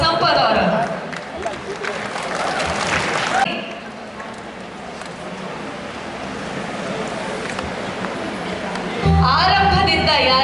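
Loud, sustained audience applause welcomes Sampath Kumar onto the stage at an event, with music and a voice over the clapping.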